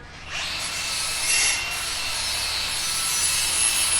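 A grinder used for exhaust work gives a high, harsh grinding whine that spins up and runs continuously, loud and close, with no talking.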